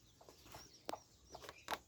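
Chickens clucking inside a poultry house on a farm, with short soft calls scattered over low background noise and a couple of sharper, louder clucks near the end.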